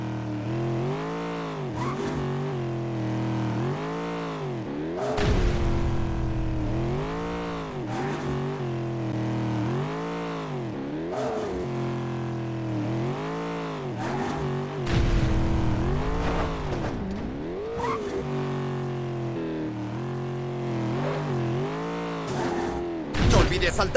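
Car driving in the Disney Infinity video game during a driving challenge, with a steady engine drone rising and falling in repeated revving swells and occasional louder bursts, heard continuously under a music-like backdrop.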